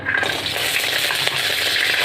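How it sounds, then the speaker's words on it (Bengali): Lentil dumplings fry in hot mustard oil, a close, steady sizzle and crackle with no voices. "এতে পরিমাণ মতো সর্ষের তেল দিয়ে দিচ্ছি দিয়ে আমি এই ডালের বড়িগুলো ভেজে তুলে নেব"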